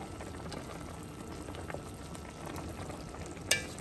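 Food cooking in a Dutch oven is stirred, giving a steady close bubbling, sizzling hiss with soft scraping and a sharper clack near the end; nobody speaks.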